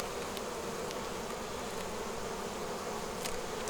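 Honey bees in an open beehive, readied for winter, fill the air with a steady, dense buzzing drone, close and constant throughout with no pauses and no talking.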